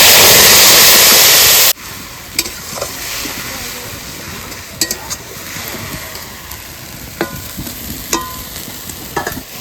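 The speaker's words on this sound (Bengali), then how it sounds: "মশলাটা ভালো করে কষিয়ে নেবো" Tomato paste, ginger paste and spices hit hot oil in a pan with a loud burst of sizzling, which drops to a lower steady fry broken by spatula scrapes and clinks.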